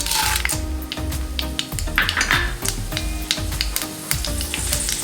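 Mustard seeds, chana dal and urad dal frying in oil in a pan for rice upma, a loud close sizzle broken by repeated metallic clanks and scrapes of a spoon against the pan.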